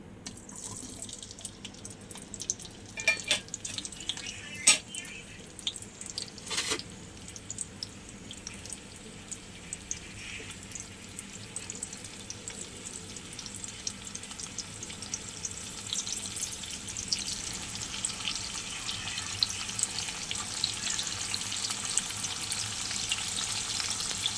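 Shrimp and chopped onion fry in oil in a wok for a stir-fried jute-leaf dish. A continuous hiss with sharp crackles spreads and grows louder toward the end, and no one talks.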